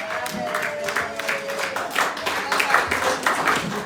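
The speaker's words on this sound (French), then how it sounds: "Acclamons pour Jésus maintenant." A church congregation at a French-language evangelical service claps and cheers for Jesus, a steady, dense wash of applause filling the space with crowd voices mixed in.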